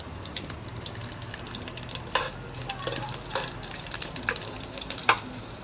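Mustard seeds crackling in hot oil for a Kerala-style banana dish, a steady sizzle broken by scattered sharp pops and spits throughout.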